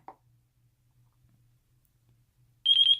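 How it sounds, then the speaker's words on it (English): A brief click, then near silence, followed by a rapid series of high-pitched electronic beeps from a FrSky Taranis QX7 radio transmitter in bind mode at the end, close and fairly loud. "your transmitter is going to make a very annoying beeping sound"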